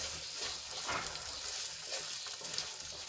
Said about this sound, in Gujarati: ચોળીને આપણે થોડી વાર માટે તેલમાં સાંતળી લઈશું એકાદ મિનિટ માટે